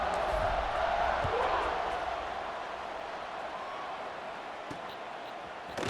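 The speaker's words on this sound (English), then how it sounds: "this crowd now ready to get behind them" A steady, broad stadium roar from a virtual crowd in EA Sports College Football 26 as the kickoff nears, holding a constant level throughout with a few faint thumps.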